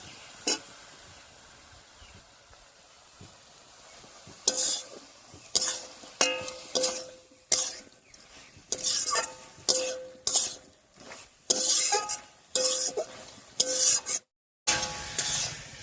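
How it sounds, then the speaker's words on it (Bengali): Spinach and cooked vegetables stir-fried with spices in a pan, giving a series of scraping, clattering spatula strokes over a soft sizzle, close and fairly loud, with short pauses between bursts. "এবারে মশলাটা দিয়ে একটু কষিয়ে নেব সব কিছুর সঙ্গে।"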